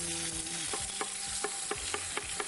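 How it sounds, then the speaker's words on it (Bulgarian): Mushrooms sizzle steadily in a hot oiled frying pan while they are stirred and turned, with several soft scraping clicks of the utensil against the pan over the continuous close frying hiss. "Гъбките ще ги обърнем на тиганчето."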